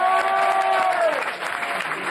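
Applause from a studio audience on a French comedy show, steady clapping with a sustained tone over it that glides down and fades partway through.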